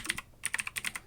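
Quick, crisp keystrokes clatter on a computer keyboard, about a dozen close clicks in uneven bursts, quiet and without speech.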